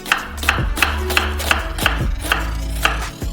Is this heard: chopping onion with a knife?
yes